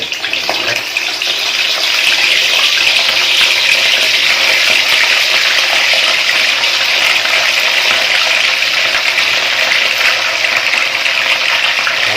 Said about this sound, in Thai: ตั้งกระทะแล้วก็ใส่น้ำมันเยอะๆนะครับ เพื่อจะนำไปทอด